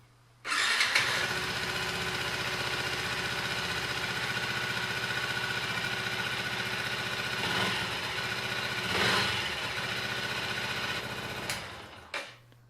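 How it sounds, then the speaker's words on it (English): A motorcycle engine fires up after an oil and filter change and settles into a steady, rattling idle, with two brief revs partway through before it cuts off. "make sure the bike starts and runs as it should."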